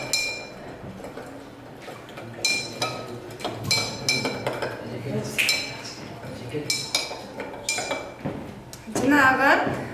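A spoon clinks and rattles against a glass while furacilin tablet is stirred into about 100 grams of water, a quick irregular series of close metallic taps, with talking over it.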